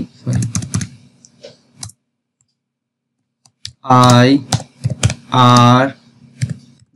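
Clicking keys of a computer keyboard while typing a sentence for a grammar check, with bursts of close, rapid key taps around stretches of talking.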